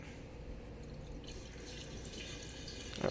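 Fluid being poured into the cooling system of a 1985 Mercedes 300CD that had been abandoned, a steady close trickle and splash of liquid running throughout, getting slightly louder toward the end.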